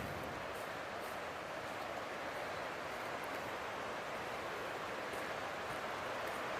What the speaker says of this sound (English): You can probably hear the Weaver Creek in the background.